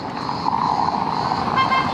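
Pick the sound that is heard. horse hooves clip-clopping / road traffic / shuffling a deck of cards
road traffic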